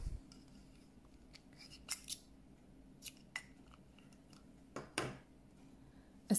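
Scissors handled quietly, with a few sharp snips and metallic clicks scattered irregularly against a soft background.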